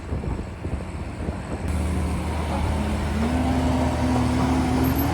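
A tractor hauling a trailer loaded with muck pulls away on a farm. Its engine drones low and close, thickening after a moment, and a rising hum climbs as it moves off.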